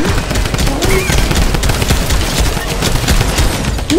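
Rapid automatic gunfire in the Fortnite video game, loud and continuous bursts of shots packed tightly together for the whole stretch with no pause.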